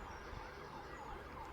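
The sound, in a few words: police or ambulance siren passing on a street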